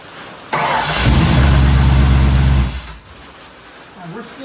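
A V8 engine fitted in a Ford Pinto, with a fuel leak, cranks and catches, then runs loudly for about two seconds before dying back down. People talk nearby.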